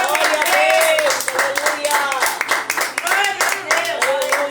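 Congregation clapping during a Pentecostal church service, sharp dense handclaps with a rising whistle-like tone over them, loud and close.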